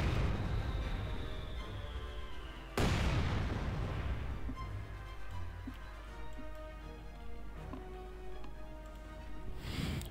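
Company of Heroes 2 battle audio: a light German infantry gun barrage thumps down on a Pak 40 anti-tank gun crew, with a sharp booming impact early, then rumbling battlefield noise and scattered crackling reports.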